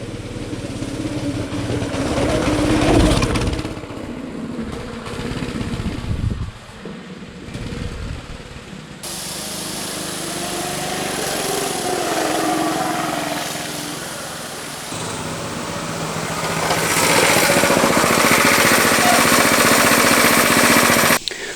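An abandoned go-kart's small engine runs loud and close, a rough buzzing chatter that rises and falls as it revs, with abrupt shifts where the sound changes level and character.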